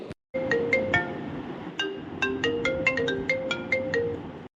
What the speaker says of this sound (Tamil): ஃபோன் அடிக்கிறது